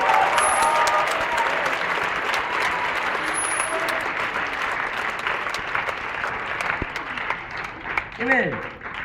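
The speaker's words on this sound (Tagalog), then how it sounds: "Ang hina naman ng palakpak na yan." Audience applause at a church gathering rolls on steadily and fairly softly, thinning out near the end, with a voice speaking over the clapping.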